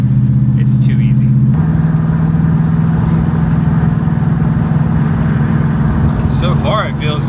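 Engine of a fastback Mustang fitted with Holley Sniper fuel injection, rumbling steadily at very light throttle while driving, loud and continuous inside the car, with voices talking over it.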